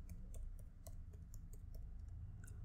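Typing on a computer keyboard while searching for a LinkedIn logo, a quick, faint run of close key clicks with a few distinct taps, set against a low steady hum.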